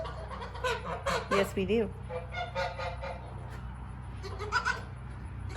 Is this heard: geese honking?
yes